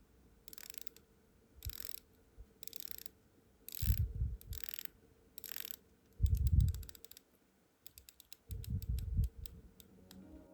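Seiko Prospex 1965 Heritage diver's watch bezel with aluminium insert and 120-click ratchet, turned in short bursts of crisp, close, quiet clicks separated by pauses, some runs quick and rattling, with soft handling thumps between.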